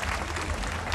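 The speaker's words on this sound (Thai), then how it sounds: "ปรบมือหน่อยครับ" Brief, dense audience applause at a live stage event, a continuous wash of clapping filling the moment with no voices standing out.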